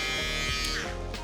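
A VGR electric shaver buzzes steadily at close range with a dense, even hum, its pitch wavering slightly as it moves over the skin.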